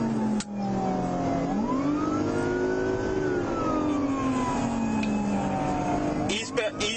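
A blue Toyota Prius pulls away from a police traffic stop, its engine and drive whine rising and falling in a steady, close drone for several seconds, ending in a few sharp knocks.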